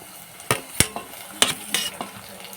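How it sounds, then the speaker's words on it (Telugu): Onions and green chillies fry and are stirred in a pan, sharp metallic spatula scrapes and clacks landing in an irregular run of about six strokes over a soft background sizzle. "ఉల్లిగడ్డ పచ్చిమిరపకాయలు బాగా ఎగనిద్దామండి"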